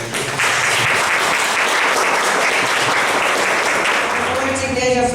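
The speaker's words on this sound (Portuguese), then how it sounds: "Uma salva de palmas para o Senhor." A church congregation breaks into applause, a dense steady wash of many hands clapping at close range that holds evenly for the full five seconds before thinning slightly at the end.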